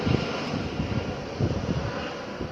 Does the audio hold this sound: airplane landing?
yes